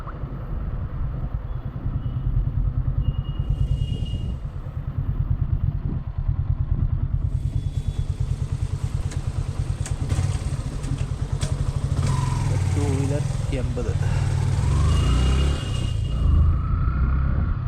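A motorcycle rides along a highway in Karnataka on a long-distance solo trip, with a loud, steady engine rumble and wind buffeting close up, its pitch shifting with throttle changes and occasional clatter, and no one talking.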